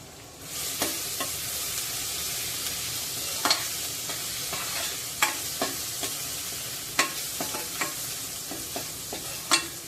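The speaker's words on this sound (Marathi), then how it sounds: "तेल तापलेलं आहे त्यामध्ये आपण हे घालून घेऊया आलं लसणाला गुलाबी रंग येईल इतकं ते परतून घ्यायचं आहे" Crushed garlic and ginger frying in hot oil, a continuous bright sizzle with repeated sharp spatula scrapes and taps at an uneven rhythm, close up and alone without any voices.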